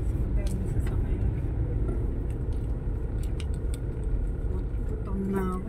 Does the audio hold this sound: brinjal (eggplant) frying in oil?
no